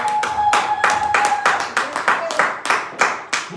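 A church congregation claps in praise of the Lord, sharp rhythmic hand claps at a steady beat filling the clip, loud and close, with a sustained voice tone under the first seconds.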